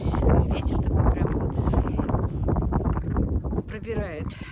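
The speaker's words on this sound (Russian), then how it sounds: "Ветер такой прям" Cold wind gusts steadily across a rural farmyard with livestock and chickens, a broad rushing roar buffeting the microphone throughout, with someone talking over it.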